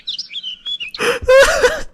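Cartoonish bird chirping sound effect, a run of high thin tweets at first, then a louder burst of layered warbling calls with noisy texture, bright and close.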